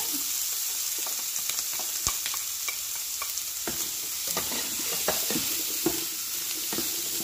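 Peppers sizzling in a pan with Beyond Meat and black beans, a steady hiss of frying with scattered stirring scrapes and utensil taps, no voices.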